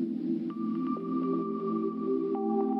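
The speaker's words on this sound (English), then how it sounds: "Turn up the reverb dry wet, as well as the reverb size." A sustained synth-like instrument tone with long, washy reverb tails, notes blending smoothly as pitches shift.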